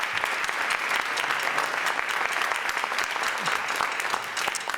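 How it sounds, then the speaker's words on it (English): Audience at a community jazz band concert gives a loud, dense round of applause for the sound and stage crew, sustained and even throughout with no speech over it. "Please give him a round of applause."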